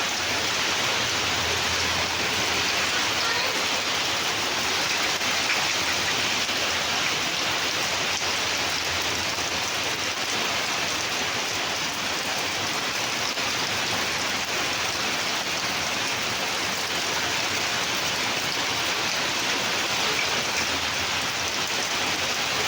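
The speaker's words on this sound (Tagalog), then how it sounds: "Malakas yung hangin dito mga kabayan." Steady, dense roar of heavy typhoon rain with strong wind in Angeles City, Pampanga, a constant broadband hiss continuing without a break and no voices.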